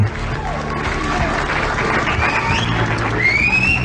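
An applause sound effect plays on a Filipino late-night radio call-in show: steady, hissy clapping mixed with crowd noise, running the whole time beneath voices.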